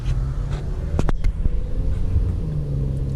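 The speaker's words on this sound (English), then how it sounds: "So let's do another little normal acceleration" A 2012 Chevy Cruze LTZ RS pulls away under normal acceleration, heard from inside as a low, steady engine rumble with a few sharp clicks and knocks in the cabin.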